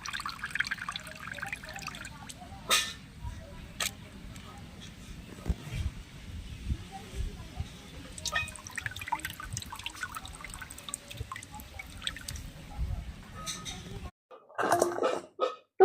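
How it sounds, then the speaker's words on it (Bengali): Grated potato and carrot being drained, with water trickling and dripping in soft irregular spurts and small clatters, close by and fairly quiet, ending with a brief louder splash. "ভালো করে জল ঝরিয়ে তুলে নেব"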